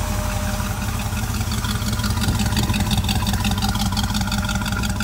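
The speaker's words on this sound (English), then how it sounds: "I'll let you hear the pipes on the outside." A 1966 Ford Econoline pickup V8 idles through its side exhaust pipe, a steady low burbling rumble heard close by outside the truck with no talk.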